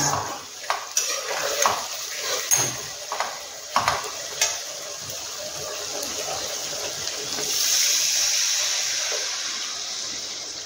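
Water pours into a hot pan of frying rui fish egg kofta curry base, with clinks and scrapes of a utensil stirring first, then a sustained hissing sizzle as the liquid hits the oil, close and moderate.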